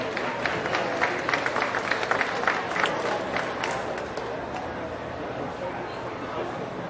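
An audience at a county fair beef show applauds exhibitors after a class of steers, scattered clapping building briefly then tapering into a crowd murmur, with people talking underneath.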